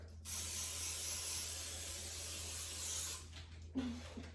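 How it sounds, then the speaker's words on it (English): Cooking spray sprays into a 9x3 metal loaf pan in one steady, close hiss lasting about three seconds, followed by a faint brief voice. "So I just have some cooking spray, and we have a loaf pan."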